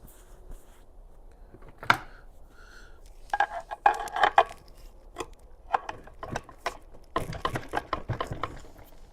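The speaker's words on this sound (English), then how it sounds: "I'm going to pry a little bit here and here, so we'll get this thing to loosen up." Nissan Altima JF016E CVT transmission parts being pried apart with metal tools, giving scattered clicks, scrapes and metallic clanks in irregular bursts, close and moderately loud.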